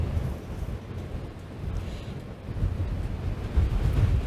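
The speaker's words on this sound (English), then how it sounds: "Ooh, it's another big gust." A strong evening gust buffets the microphone outdoors near the Soo Locks, a loud rumbling low roar that swells and surges toward the end, with no talk.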